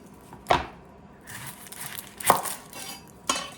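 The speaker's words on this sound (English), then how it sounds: "I'm going to go ahead and slice my onion. First, I'm going to chop off both ends." A knife strikes a cutting board as both ends are chopped off an onion, three sharp separate chops with quiet pauses between them, close and fairly crisp, with no talking.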